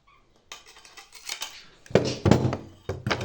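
Pliers chipping and prying small leftover pieces off ceramic tile on a tiled stove, giving a string of sharp close clicks, scrapes and crunchy snaps, bunched more densely in the second half.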